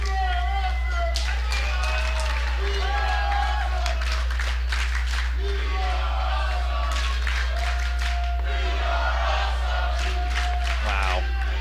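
A wrestling crowd at a live event cheers and claps, a steady roar of voices and scattered applause under a low hum while commentators talk over it.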